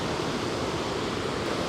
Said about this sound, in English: obviously I've got the waterfall here